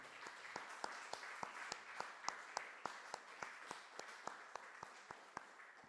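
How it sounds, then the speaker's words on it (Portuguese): A church congregation at a worship service applauds steadily, a sustained wash of many hands punctuated by sharper, regularly spaced claps, heard from a moderate distance without speech. "Você pode aplaudir o Senhor."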